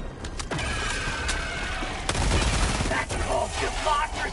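Gunfire from a weapon in Helldivers 2, loud sharp shots in a rapid irregular burst with booming impacts and mechanical clatter in the mix.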